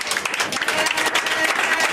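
A church congregation applauds during a lively service in Rabat, a steady dense patter of many hands clapping continuously, fairly loud and close, with faint voices mixed in.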